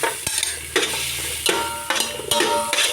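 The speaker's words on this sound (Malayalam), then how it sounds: "ആദ്യം അണ്ടിപ്പരിപ്പിട്ട് മൂട്ടി കൊടുക്കാം." Cashew nuts fry in ghee in a pan, giving a steady sizzle broken by regular scraping strokes of a spoon stirring them.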